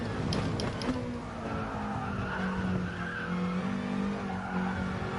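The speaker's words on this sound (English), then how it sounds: "I am going to try trail braking into turn 1 on this occasion, just to see what happens" Car tyres squeal and skid under trail braking into turn one at Barcelona in a racing game, a sustained loud screech that rises and wavers over steady engine and road noise.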